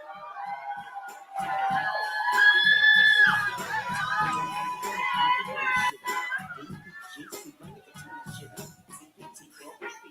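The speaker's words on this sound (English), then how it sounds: "Y'all put your hands together for Kylian" A youth poetry slam audience applauds and cheers as a poet takes the stage, with a swell of claps, whoops and young voices that fades as the room settles.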